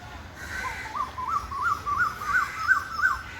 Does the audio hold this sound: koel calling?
yes